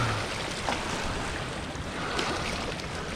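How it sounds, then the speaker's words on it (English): Waves wash against a fishing boat on open dam water, a steady broadband splash and wind-like rush that continues without a break throughout. "There's a lot of waves down here today because the water's open."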